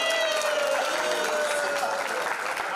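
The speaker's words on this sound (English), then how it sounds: "Can we have a huge round of applause for Oppo and the top 10?" An audience at a phone unboxing event gives a steady burst of loud, dense clapping that holds throughout, with a faint background voice.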